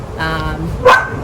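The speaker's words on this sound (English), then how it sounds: "Sorry about the dog" A dog barks once sharply and close, a single loud bark cutting through a domestic indoor setting with some background voice beforehand.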